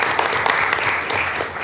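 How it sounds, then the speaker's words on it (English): Applause from an audience at a Joliet Junior College Board of Trustees monthly meeting, a dense, steady clatter of many hands clapping that stays loud and even for under two seconds. "join me in giving them a huge round of applause"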